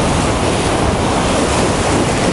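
Stormy sea surf crashes on the beach at Khosta in Sochi in December, a dense continuous roar of waves mixed with wind buffeting the microphone, loud and close with no voices.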